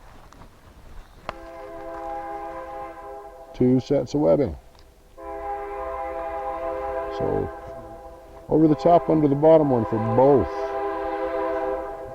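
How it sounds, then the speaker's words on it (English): A passing train rumbles steadily close by and sounds its horn in loud, repeated blasts over someone talking. "Pardon the train, folks."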